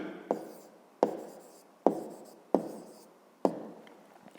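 Pen or pencil writing on paper in five short, evenly spaced strokes, close and quiet, each with a sharp onset and a fading scratch, no voices.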